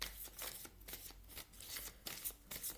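Tarot cards being shuffled close up, a quiet run of soft riffling flutters repeating in short bursts.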